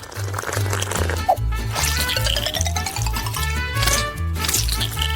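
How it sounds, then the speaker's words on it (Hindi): Brewed coffee made from ground beans and boiling water is poured into a mug, a steady liquid trickle and splash running under faint background noise. "और हम इसे मग में डाल सकते हैं।"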